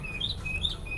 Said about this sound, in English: The birds are singing over here.